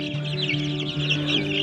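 Young chicks peep continuously from a brooder inside a chicken coop, a dense, high chirping chorus over a low steady hum, close and fairly loud.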